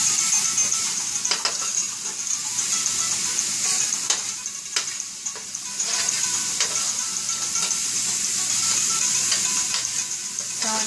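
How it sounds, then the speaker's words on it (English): Vegetables frying in oil for a vegetarian taco salad, a dense, even sizzle that runs throughout while a utensil stirs and scrapes them around the pan at close range. "continue to stir it, making sure that all the vegetables are coated with the oil"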